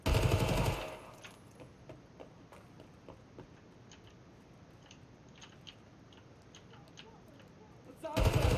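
Loud gunfire burst at the start from a gun in the video game Tarkov, then quieter scattered clicks and distant shots over a low background, with another loud burst at the end.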